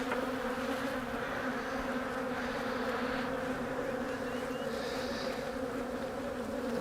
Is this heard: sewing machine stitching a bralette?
no